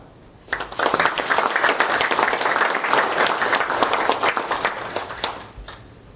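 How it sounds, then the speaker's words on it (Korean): Studio audience applause for the Democratic Party leader Kim Han-gil on a live televised debate, a loud, dense burst of clapping that starts sharply, holds steady for about five seconds, then quickly dies away. "먼저 생방송 토론에 나와주신 민주당 김한길 대표께 큰 박수 부탁드립니다."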